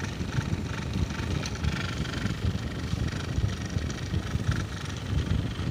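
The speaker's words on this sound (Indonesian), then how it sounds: "jadi kipas angin ini sudah berputar" A repaired electric fan with a new rotor bushing spins steadily, giving a soft, even whirring hum with airy noise, close and without speech.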